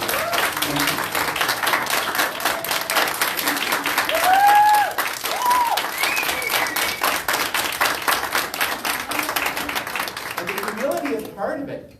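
A church congregation at a Sunday service applauds to welcome a volunteer, with dense, steady clapping from a large crowd for about eleven seconds. A brief voice is heard midway, and the clapping dies out at the end.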